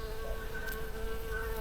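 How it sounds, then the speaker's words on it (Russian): A bee buzzes steadily close by at a small apple tree in a garden in Serbia, a continuous thin hum with no talking over it. "А это вот яблонька, вон, пчелка прилетела."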